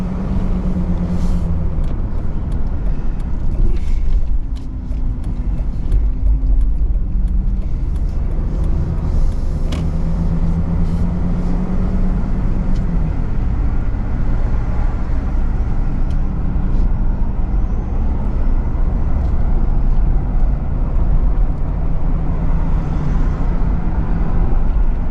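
A car pulls away from a green light and drives through quiet city streets in Bucharest on Easter Sunday, with steady engine and road rumble close by, continuous throughout and no talking.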